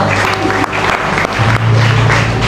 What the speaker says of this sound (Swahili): Chapia Yesu makofi kama unanielewa